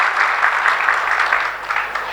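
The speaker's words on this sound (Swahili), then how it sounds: "Naomba tujipigie makofi mengi sana" Dense, steady applause from an audience at a formal public gathering with a guest of honour, sustained evenly at moderate loudness for a couple of seconds with no speech over it.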